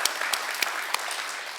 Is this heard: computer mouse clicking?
no